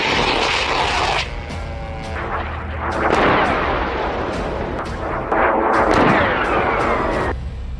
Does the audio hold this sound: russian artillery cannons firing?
yes